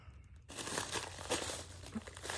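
A cat shifting around on tissue paper makes a loud, continuous crinkling and rustling that starts abruptly after a brief quiet moment and carries on unevenly with a few sharper crackles.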